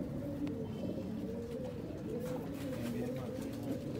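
Indian breed female pigeons coo in soft, repeated rolling calls, a low murmuring chorus that continues steadily and quietly, with faint voices in the background.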